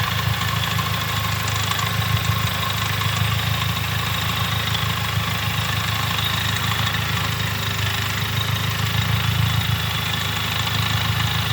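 A car engine idles steadily while second gear is engaged on a DSG7 seven-speed dual-clutch gearbox, giving a continuous low hum with faint mechanical whine and no voices.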